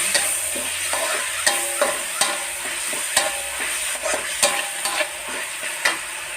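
Cabbage and minced pork being stir-fried in a pan, a constant close sizzle broken by regular clanks and scrapes of a spatula tossing the food, with no talking.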